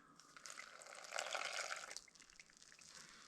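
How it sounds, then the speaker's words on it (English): Milk pours steadily into a blender for a few seconds, a faint splashing gurgle that swells midway, then tapers off. "On top of that, I'm going to pour my milk."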